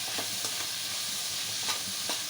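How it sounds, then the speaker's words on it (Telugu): Ginger-garlic paste with cinnamon and clove being stirred in hot oil in a pan for capsicum gravy curry, a steady close sizzle with soft periodic scraping strokes of the spoon. "అల్లం వెల్లుల్లి చెక్క లవంగాల పేస్ట్ వేసానండి. మొత్తం ఒకసారి కలుపుకోవాలి."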